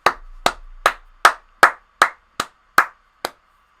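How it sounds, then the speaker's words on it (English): One person claps hands alone, nine sharp separate claps in a slow steady rhythm, close and crisp with silence between them. "So I'd say give a round of applause."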